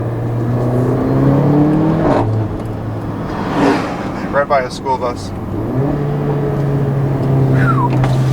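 A 2015 Mercedes-Benz GLA 45 AMG engine with a dual-clutch transmission revs and accelerates through rising gear shifts, loud and close, with someone speaking briefly over it.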